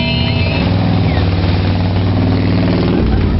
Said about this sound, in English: That car sounds awesome.